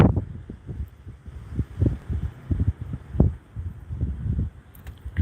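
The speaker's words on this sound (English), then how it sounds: "Yeah, it's windy." Wind buffets a car's microphone in gusty, low rumbling bursts through an open window in Detroit, uneven and fairly close, with no speech.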